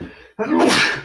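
A single sharp, loud human sneeze right up close, preceded by a quick intake of breath and a brief pause, with a short spoken word just before.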